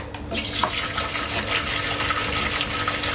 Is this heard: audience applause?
no